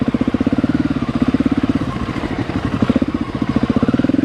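Heavy dirt bike motorcycle engine running under load while being ridden, a loud, close, rapid pulsing throb that stays steady and rough throughout, with no talk.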